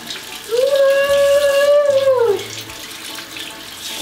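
A bathroom tap runs steadily for hand washing with homemade glitter soap, a close, continuous gush of water that fades after a couple of seconds, with a soft voice in the background.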